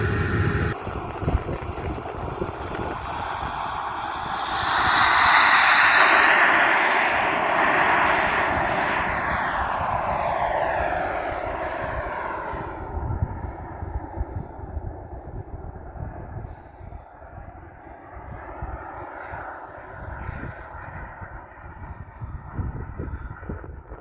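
Model turbine jet engine on an RC T-45 aircraft spools up with a rising whine and roar, peaks, then settles into a steady high-pitched idle hiss, loud and close.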